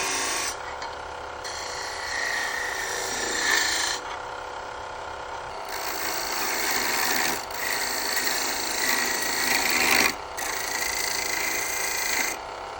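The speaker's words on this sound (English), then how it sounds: "Right now we're just using the spindle gouge." A spindle gouge cuts wood turning on a lathe while a lidded box is shaped, giving a sustained close rasping hiss in several long passes separated by brief lighter pauses.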